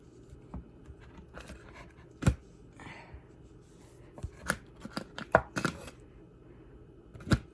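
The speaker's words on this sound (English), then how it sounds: "Mine are slices, so I'm going to cut them." A knife cutting provolone cheese slices into strips on a board, giving sparse, close taps and soft scrapes at irregular intervals with quiet gaps between them.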